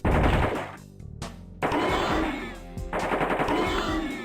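Rapid bursts of AK-47 automatic fire in a video game, loud and close, with long sustained volleys broken by a brief pause and a shorter gap before firing resumes.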